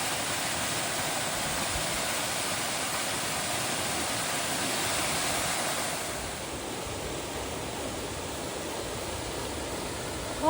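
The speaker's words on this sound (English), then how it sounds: "Waterfalls." Steady, broadband rush of a waterfall in Sequoia and Kings Canyon, loud and continuous, easing slightly partway through and continuing at a constant roar with no voices.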